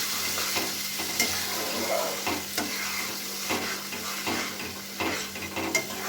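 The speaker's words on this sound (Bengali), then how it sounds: "এবার খুব ভালো করে এই মশলাটাকে কষিয়ে নিতে হবে।" Spiced masala with cumin, pepper and chopped tomato is stir-fried for a Bengali prawn and potato curry, a continuous close sizzle broken by regular scraping strokes of a spatula against the pan.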